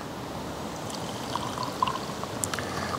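Coffee is poured from a camping pot into a wooden cup outdoors, making a steady soft stream of liquid with faint splashes and trickles, close and continuous throughout.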